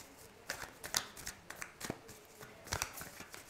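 Playing cards being shuffled during a tarot reading, a series of quick riffling bursts and soft flicks, close and fairly quiet, with no talking.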